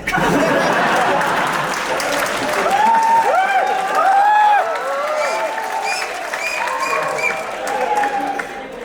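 A crowd applauds at a KP Oli political speech in Nepal: dense, steady clapping runs throughout with voices and chuckles rising over it.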